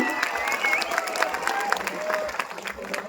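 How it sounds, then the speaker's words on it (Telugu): A crowd at a BJP political rally applauds and cheers to welcome a speaker, with dense, steady clapping throughout and a voice sounding over it. "ఒక్కసారి గట్టిగా చప్పట్లతో స్వాగతం"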